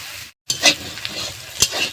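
Mustard greens and egg bhujia fry in a pan with a close, steady sizzle. A brief dropout comes before a couple of quick stirring scrapes.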